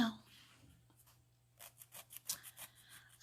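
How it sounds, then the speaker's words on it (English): A nail file rubs excess sticker off a fingernail in about six quick, quiet strokes, heard close up after a brief stretch of faint background hum. "file and we're just going to go and get the access sticker off of the nail"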